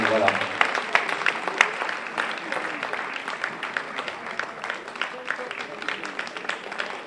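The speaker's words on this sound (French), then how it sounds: "On peut l'applaudir très fort." A full audience at a sand-queens beauty gala bursts into dense, continuous clapping that holds steady for several seconds, with voices and a few cheers mixed into the applause.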